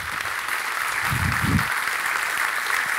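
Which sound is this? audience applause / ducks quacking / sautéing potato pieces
audience applause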